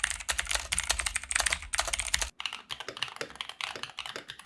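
Rapid, steady clacking of keystrokes on a custom mechanical keyboard fitted with black tactile Dark Jade switches, close and crisp, typed alone with a brief pause midway.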